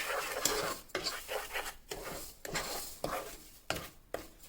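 Semolina (rava) roasting in a pan for orange kesari, stirred with a spoon in short scraping strokes against the metal, close and moderately loud with brief pauses between strokes.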